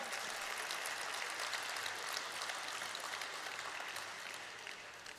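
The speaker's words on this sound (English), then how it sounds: "can we have a round of applause" A crowd at the National Stock Exchange listing ceremony for Aequs Limited gives a sustained round of applause, an even, dense patter of many hands that fades slightly toward the end.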